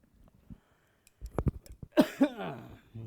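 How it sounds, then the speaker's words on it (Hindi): A couple of short, harsh coughs close to the microphone, preceded by small throaty sounds and breaths. "बड़ी खांसी हो गया है, बड़ी खांसी"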